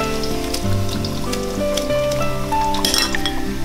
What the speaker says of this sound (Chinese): 有温有三成热的时候把葱姜蒜辣椒都放锅里面炸一下